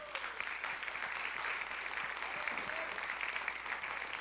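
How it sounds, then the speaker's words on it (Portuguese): Church congregation clapping during a worship service, steady dense applause at moderate volume with faint voices underneath. "Você pode aplaudir ao Senhor."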